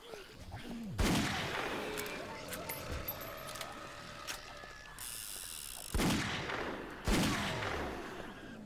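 Bursts of gunfire in the video game 7 Days to Die, with several loud sharp shots and a sustained mechanical rattle between them.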